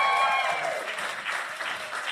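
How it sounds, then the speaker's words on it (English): A crowd claps steadily in dense, sustained applause at a live podcast show, loud and continuous from start to finish, with a brief tonal hint at the beginning. "Give him a round of applause."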